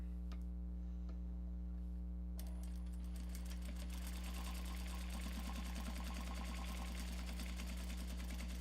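A sewing machine runs steadily while top stitching a Japanese fabric bag, a fast, even mechanical ticking over a constant low hum, close and moderately quiet with no speech.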